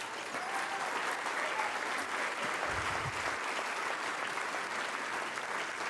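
The audience at the 2014 GLAAD Media Awards applauds in a steady, dense wash of clapping that fills the whole stretch, with cheering mixed in.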